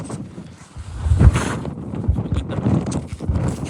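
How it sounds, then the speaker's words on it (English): Strong, cold wind buffets the microphone on the summit of Mt James in Glacier National Park, a continuous rough rumble with gusts swelling and easing, and no one speaking. "Very, very, very windy."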